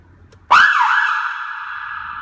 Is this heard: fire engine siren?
yes